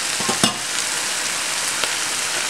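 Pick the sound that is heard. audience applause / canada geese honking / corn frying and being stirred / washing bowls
corn frying and being stirred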